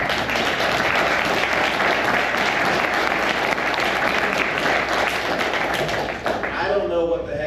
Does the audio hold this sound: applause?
yes